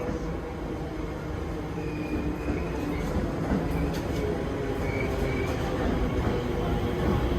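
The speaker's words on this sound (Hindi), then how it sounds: "तो आते ही भाई ट्रेन तो आ गई है और ट्रेन पे चढ़ते हैं।" A London Underground train pulls into a station platform, its steady low rumble and rail noise filling the space continuously, with faint higher squeals and clatter over the hum.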